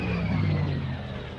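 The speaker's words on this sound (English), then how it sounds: "It's probably the ultimate piston engine fighter that was ever built." A Hawker Sea Fury piston-engine fighter at an air show gives off a loud, steady droning rumble that holds strong for a moment, then eases slightly as it passes.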